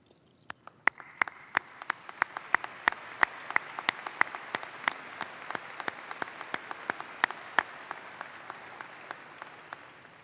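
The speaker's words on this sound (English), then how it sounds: "Will the students involved in these various programs please stand for our applause?" Applause at a high school graduation ceremony, a soft bed of crowd clapping punctuated by sharp, distinct nearby claps in a loose repeating rhythm.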